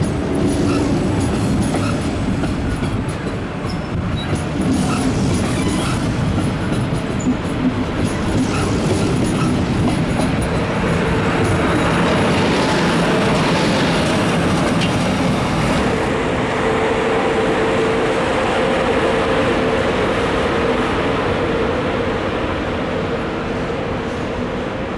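A train of single-deck N-Wagen coaches hauled by a class 111 locomotive rolls through Stuttgart Hbf, a loud, continuous rumble with wheel clatter and faint squealing, steady for the whole stretch with no voices.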